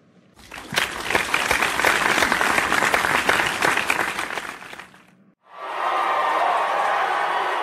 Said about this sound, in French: une salve d'applaudissements pour le prophète Pierre